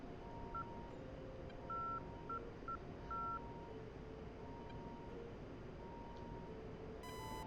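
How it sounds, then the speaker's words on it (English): Navigation beeps from the A-10C cockpit in the DCS flight simulator sound as short, faint, evenly pitched tones in an irregular pattern over a low steady hum. "Beeps you're hearing is the TACAN."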